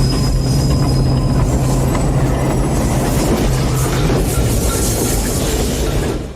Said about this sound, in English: a chase sequence where he manages to avoid some mobsters using the L train